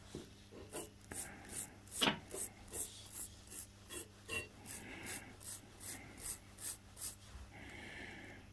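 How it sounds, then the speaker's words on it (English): A small brass wire brush scrubs the threads of a bolt during Honda CB750 K2 triple clamp work, a soft, rhythmic scratching repeated in quick even strokes, close and fairly quiet. "Little brass wire brush."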